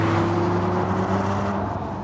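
Car engine pulling hard in steady acceleration, a loud sustained drone with rising tonal engine notes and road roar throughout.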